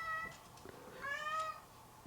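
A cat meows twice, a short call near the start and a longer, drawn-out one a little past the midpoint, both faint over a quiet background with no talking.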